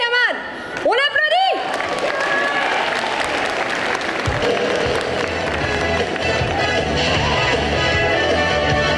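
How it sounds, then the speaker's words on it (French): Loud, sustained applause from a large audience fills the room, steady and dense throughout, following a brief voice at the start. "On l'applaudit."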